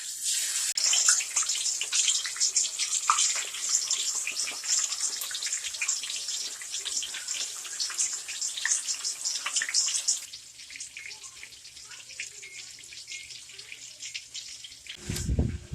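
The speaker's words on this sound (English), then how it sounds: "Let's go ahead and put them in the oil." Chicken wings dropped into hot oil, producing a loud, dense, hissing sizzle that drops to a quieter steady bubbling partway through, with a clunk at the end.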